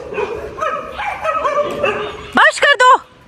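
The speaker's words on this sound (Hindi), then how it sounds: "मार कोई भी नहीं रहा, सिर्फ भौंकना है इन्होंने।" Dogs squabble at an animal shelter. A layer of whining and whimpering builds into three sharp, loud yelping barks close by, followed by quiet.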